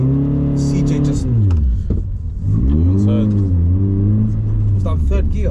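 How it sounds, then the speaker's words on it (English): A 2004 Toyota Celica VVTL-i 190 T-Sport pulls away from a junction in third gear, its engine note climbing in repeated revving sweeps, close and loud beneath someone talking. "I just pulled out of a junction in third gear."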